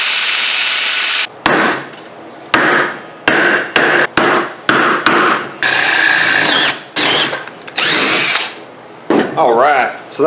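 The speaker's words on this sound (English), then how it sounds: "That's how you drill holes in that." A power drill boring holes for a DIY GoPro chainsaw mount, loud whirring bursts that start and stop repeatedly with short pauses between, some grinding as the bit bites.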